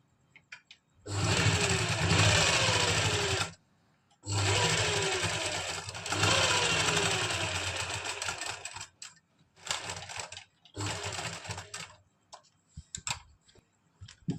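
A sewing machine stitches the shoulder seams of a pleated kurti in several loud, close bursts of rapid whirring, separated by short pauses and lighter ticking sounds.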